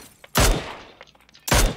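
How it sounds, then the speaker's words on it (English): Two loud, sharp SKS rifle shots in a shooter video game, about a second apart, each a broadband crack with a short decay, with faint background clatter between them. "There's a SKS guy shooting at me."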